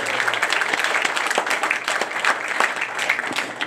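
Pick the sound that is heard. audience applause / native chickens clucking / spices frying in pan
audience applause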